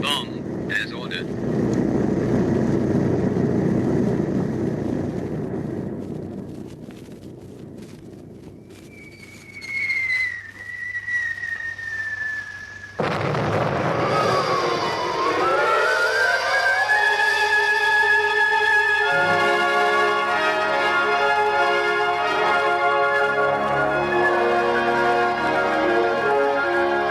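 An old-time radio drama sound effect of bombs: a low engine rumble, a falling whistle, then a sharp blast, followed by sustained musical tones.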